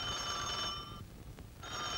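An old landline telephone bell rings in a Pakistani film scene, a close, loud ringing burst that stops briefly and then starts again.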